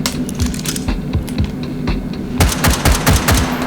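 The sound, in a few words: rifle firing in the VR video game H3VR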